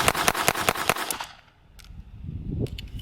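A Beretta Bobcat Inox .22 LR pistol firing a rapid string of about seven sharp, close shots in under a second, followed by a quiet pause and faint metallic handling clicks.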